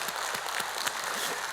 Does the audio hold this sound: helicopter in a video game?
no